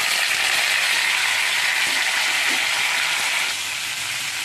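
Mango pieces dropped into hot oil tempered with fenugreek seeds give a steady, dense sizzle of frying that fills the whole clip, easing slightly softer near the end, with no voices.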